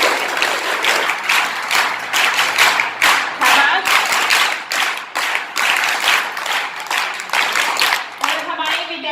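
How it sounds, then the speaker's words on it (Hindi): Schoolchildren at a village school event clap loudly to welcome guests, a vigorous continuous burst of many small hands, with voices talking over the applause near the end. "सभी के स्वागत के लिए बेटा जोरदार तालियां बजाइए"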